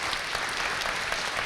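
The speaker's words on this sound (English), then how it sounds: "could you give them a big warm round of applause," Brief burst of dense audience applause for a panel at a live Oxford street travel-plan debate event, a continuous wash of clapping heard alone.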